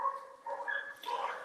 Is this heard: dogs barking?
yes